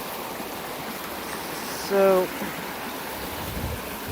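A flooded creek swollen after heavy rain rushes in a steady broadband wash, a voice briefly speaking over the constant flow.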